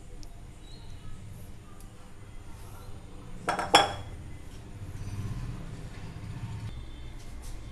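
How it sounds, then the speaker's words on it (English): Eggless semolina cake batter is scraped from a bowl into a cake mold, with quiet utensil clinks against metal and a brief sharper clatter midway, over a soft kitchen background. "Now we have to transfer the entire mixture into a cake mold like this."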